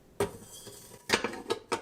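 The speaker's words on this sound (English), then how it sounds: "Put the pot in the base." A steel inner pot is set down into an Instant Pot Mini Lux base, making a few short metallic clunks and rattles, close and fairly quiet.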